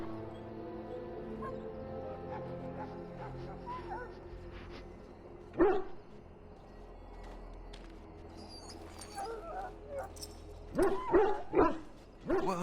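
A dog in a video game barks and whimpers intermittently over a scene with music and talking, with a few louder sharp barks near the middle and end.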